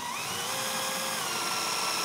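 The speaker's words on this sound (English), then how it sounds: "And I'm going to drill this out with a hole." A power drill bores a hole into a turned wooden handle held in a lathe chuck, giving a steady, continuous high whine up close and alone for about two seconds.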